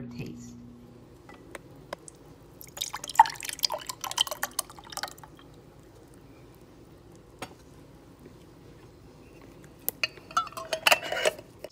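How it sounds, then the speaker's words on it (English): Citrus peels being dropped into a pot of water for candying, heard as scattered light clinks, drips and soft splashes in two clusters, with quiet pauses between them. "I'm just gonna get it into the pot so that we can get the water boiling"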